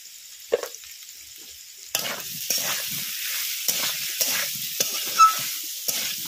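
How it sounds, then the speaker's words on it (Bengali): Boiled potatoes sautéed with salt, turmeric and spices in a pan, a steady close sizzle broken by repeated scraping and stirring strokes of a spatula, with no talking. "আলুটা ভালো করে মশলার সাথে কষিয়ে নেব।"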